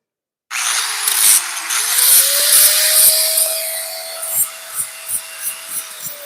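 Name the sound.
drilling out holes in metal scroll tongs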